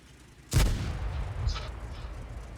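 A single booming tank cannon shot fires blind in World of Tanks, a sharp blast followed by a rumbling tail and a faint secondary crack, over quiet game ambience.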